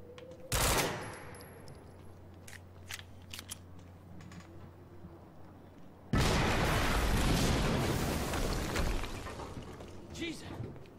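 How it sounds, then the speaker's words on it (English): Barrels exploding under gunfire in the shooter game Quantum Break: a sharp blast early, scattered shots and clicks, then a second long roaring explosion that rumbles on for several seconds, with faint game voices underneath. "we just heard an explosion near the harvesting perimeter"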